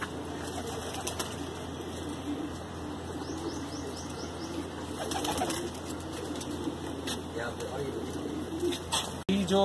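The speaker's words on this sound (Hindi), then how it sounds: "खड़ी तकती के कबूतर है" Desi pure-breed pigeons in Bhopal, Madhya Pradesh coo softly nearby with occasional bursts of wing flapping and chirps, while people talk in the background.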